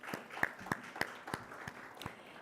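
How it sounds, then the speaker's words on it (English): A small live-event audience gives scattered applause, about eight distinct separate claps spaced across two and a half seconds, fairly faint and without speech. "Please give a huge round of applause to yourself."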